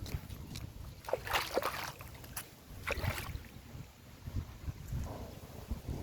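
Gusty wind buffets the microphone outdoors on a rainy day by a pond, with low rumbling and occasional soft splashes of water in the background.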